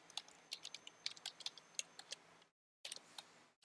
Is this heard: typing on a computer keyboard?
yes